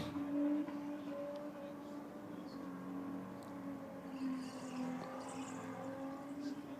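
A drag race car sits on the start pad with its engine droning steadily and wheels spinning, a sustained mid-distance engine tone with mild swells throughout.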